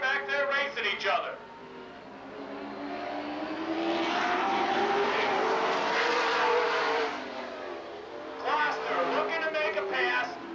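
Super late model race cars at Lake Geneva Raceway in Wisconsin, engines roaring steadily as the pack circles, with rising and falling passes, under continuous announcer commentary.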